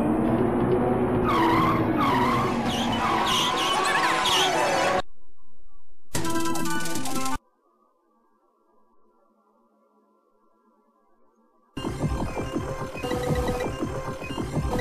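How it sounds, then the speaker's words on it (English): Car tyres spinning and squealing on the track in the Amiga racing game Wheels On Fire AGA, with engine whine. Loud skidding bursts are broken by sudden silent gaps, then the engine and tyre noise return. "spinning our tyres out with the best engine, with the crappiest tyres on that car surface"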